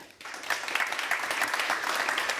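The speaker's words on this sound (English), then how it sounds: "please give us a round of applause" A panel audience gives a round of applause at the close of a discussion on European fiscal policy, steady and continuous crowd clapping from start to end.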